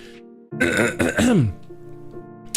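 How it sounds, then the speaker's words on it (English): A person clears their throat with a couple of rough, forceful rasps, fairly loud and close, followed by quiet. "I'm gonna be clearing my throat again."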